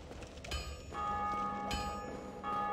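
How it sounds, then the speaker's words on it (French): Bell rings in the Dark Souls video game, sharp metallic strikes with long sustained ringing tones repeating about three times over a background of game ambience. "Yeah, une cloche."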